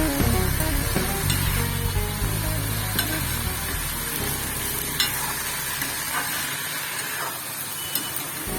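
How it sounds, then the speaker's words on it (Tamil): Vegetables sautéing in a pan for egg podimas, a dense steady sizzle with stirring scrapes and light clinks, close and fairly loud, with no talking. "காய்கறி நல்லா அப்படியே வதக்கணும்"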